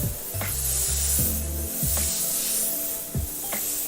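An airbrush spraying paint onto a shirt: a continuous close hiss of air runs throughout, while soft low thumps and brief sliding tones come and go underneath, with no speech.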